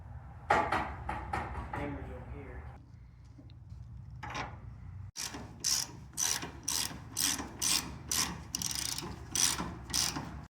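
Ratchet wrench tightening stabilizer rods on a sedan's suspension, rapid bursts of metallic clicking in short strokes, close and clear, with brief pauses between runs.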